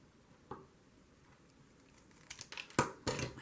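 Scissors cut paper for a handmade smash book, giving a few soft, quick snips clustered near the end, faint and close, after a single earlier click.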